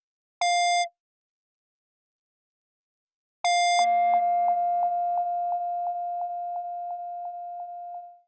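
A synthesizer tone with a delay effect: a short beep sounds alone, then after a pause a second beep is followed by a steady train of about a dozen repeating echoes that fade gradually into silence.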